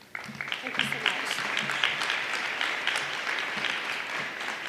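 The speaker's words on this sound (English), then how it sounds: "Please clap your hand for her." Audience applause at a community recognition dinner, a steady wash of many hands clapping that starts abruptly and holds for several seconds, with faint voices under it.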